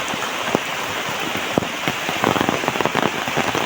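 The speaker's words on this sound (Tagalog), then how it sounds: "Lakas ng ulan." Heavy rain pours onto a pathway, a dense, loud, continuous hiss with scattered sharp drops and splatters hitting the surface nearby, heard alone.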